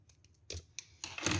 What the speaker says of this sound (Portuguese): Agora, a gente vai cortar esse fio.